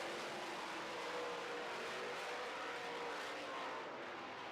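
Late model race cars running on a track during a feature race, their engines a distant, steady broadband roar with no break.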